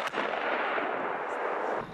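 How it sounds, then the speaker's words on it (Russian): Blasting charges set off on the ice-bound Bukhtarma River to break up ice threatening dams, a sustained loud roaring rumble of explosion lasting about two seconds with no voices. "на реке Бухтарма идут взрывные работы"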